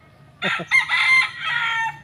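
A single loud gamefowl rooster crow close by, starting with a sharp two-part stutter and stretching into a long, strained call.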